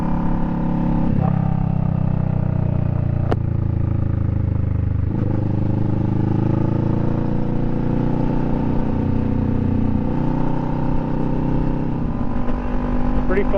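A Kawasaki Vulcan 650 S motorcycle rides along on a foggy morning, its engine a loud, steady low drone with small shifts in pitch, and a rider talks over it.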